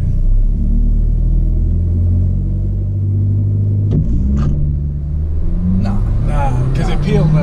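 A 2017 Hyundai Sonata accelerates hard, its engine rumbling steadily and climbing in pitch toward the end, heard from inside the car with occasional voices over it.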